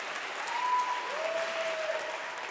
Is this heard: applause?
yes